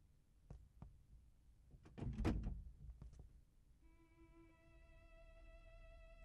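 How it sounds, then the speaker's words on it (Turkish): A door opens with a few soft knocks and a louder clunk and scrape near the middle, followed by a faint steady tone in a quiet room. "Bu kapı niye açılır ki boyuna?"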